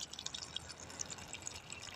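Dirty water flushes out of an opened drip irrigation pipe in a guava orchard, a quiet, steady splashing trickle with faint dripping detail and no voices.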